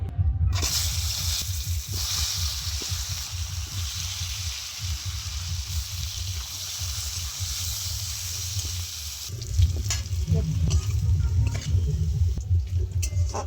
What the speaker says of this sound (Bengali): একই তেলের মধ্যে আমি আলুটা ভেজে নেব